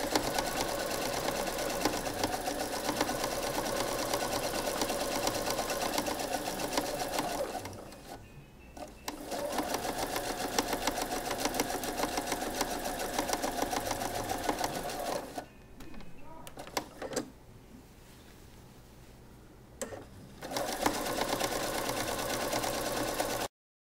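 A sewing machine stitches a fitted pocket in long, steady runs of fast rhythmic whirring, stopping briefly twice with quieter gaps between bursts.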